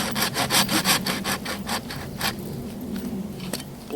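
Hand saw cutting through resinous fatwood, the blade binding in the kerf: about ten quick rhythmic rasping strokes up close, then slower, fainter scraping pulls with a final sharp stroke.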